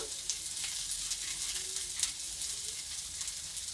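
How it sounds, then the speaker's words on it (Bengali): Spices with turmeric powder fry in a pan with a steady soft sizzle, and light clinks and scrapes come as a spoon stirs them. The frying is fairly quiet and close, with no talking. "পরে আমি নেড়ে চেড়ে নেব। মশলাটা একটু ভেজে নেব।"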